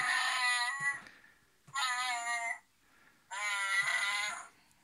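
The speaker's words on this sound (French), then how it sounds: "Chewbacca qui fait du bruit normalement. On va bien voir." Three loud, growling, roaring electronic bursts play in turn from a toy figure, each lasting about a second with short pauses between.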